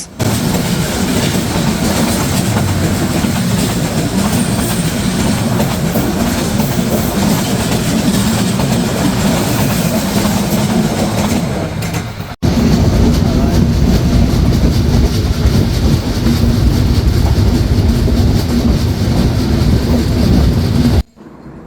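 Heard from aboard the Silk City Express as it enters Joydebpur railway station, a loud, continuous rumble of the moving train with rattling carriages, shifting abruptly midway as the noise changes character.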